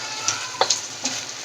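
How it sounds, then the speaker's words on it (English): Stir-fry sauce for Thai drunken noodles bubbling and sizzling in a pan, a close steady hiss with a few small pops and crackles, no talking. "You can kind of see the edges are bubbling there of the stir-fry sauce"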